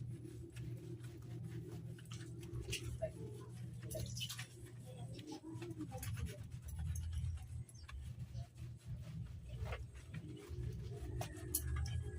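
A dog being bathed pants steadily and close by, with quick breathy huffs over a low background rumble and some faint scattered clatter.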